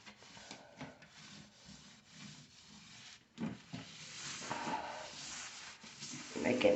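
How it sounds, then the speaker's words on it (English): Cloth or sponge rubbing over a bathroom surface to wipe away soap scum, irregular close scrubbing strokes that grow louder toward the end. "now I'm going to be wiping this down. Get all that soap scum off."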